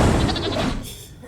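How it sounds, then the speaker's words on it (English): A sheep bleats in a wavering, drawn-out cry that fades toward the end, heard up close, from the animated film How to Train Your Dragon 2. "Those poor sheep."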